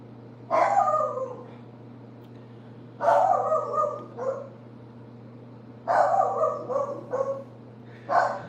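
A dog barks in four bursts, loud and close, at a pest-control worker who has come to the home, with steady background hum between the barks.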